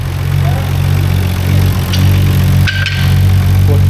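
A JDM car engine runs at a steady idle, with a loud, constant low rumble and a faint rattle. A brief clank and squeak interrupt it near the end.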